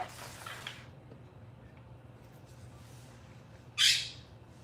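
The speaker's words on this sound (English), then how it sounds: "the bird's already making noise" A single loud, harsh bird squawk rings out near the end, after a quieter stretch of faint bird sounds over a low background hum.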